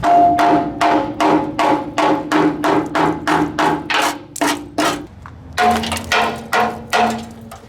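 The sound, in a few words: hammer knocking scale off metal trailer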